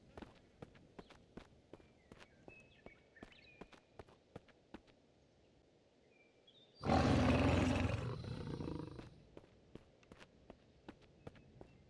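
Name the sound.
creature roaring in a video game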